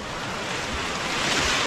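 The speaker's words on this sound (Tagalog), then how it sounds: "Kasi mayroon talaga silang mga waves dito." Ocean surf rolling in at Panglaw Beach in Hernani, Samar, a steady broad wash of breaking waves with some wind noise on the microphone, continuous and fairly close.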